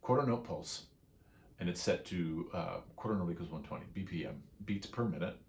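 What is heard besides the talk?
None of the usual background noises is heard.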